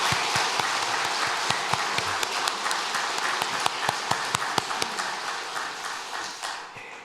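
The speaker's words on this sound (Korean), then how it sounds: "우리 1부, 2부, 3부 우리 찬양 대원들 다시 한번 우리 박수로 격려했으면 좋겠습니다" A congregation at a Korean Sunday church service applauds the choir members with steady, dense clapping from many hands filling a large room, which tapers off at the end.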